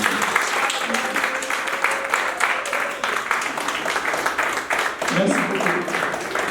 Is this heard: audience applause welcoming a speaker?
yes